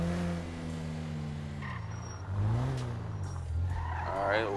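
Car driving in the video game GTA 5 Online, a steady engine drone with rising and falling revs and brief tire noise, close and moderately loud.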